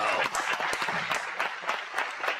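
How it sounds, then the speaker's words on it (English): Dense, steady applause with many hands clapping at once, loud and close, holding throughout without a break. "Let me give him a round of applause for that."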